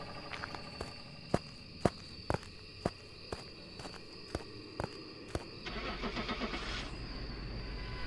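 In the ghost-hunting game Phasmophobia, a car engine starts and revs into a steady drone after a run of sharp, regular footstep-like clicks, with an insect-like chirping bed throughout.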